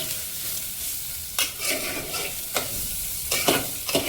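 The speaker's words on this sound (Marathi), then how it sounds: "तुपात थोडेसे तळून घेऊया." Basundi ingredients fry in about a tablespoon of ghee, giving a soft, constant sizzle broken by several scraping stirs of a spoon against the pan, heard up close with no talk.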